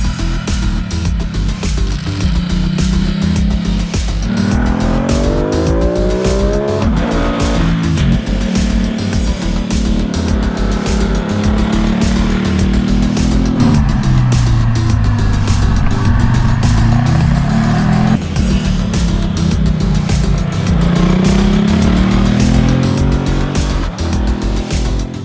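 A 2017 Ducati Multistrada 950 rides hard through twisty corners with a loud, close engine that climbs and drops in pitch as it shifts and brakes. Heavy wind rush runs continuously underneath the engine.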